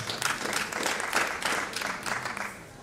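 Applause rises from a conference audience for a guest lecturer at a plenary session, a brief wash of many hands clapping at moderate level, fading slightly toward the end.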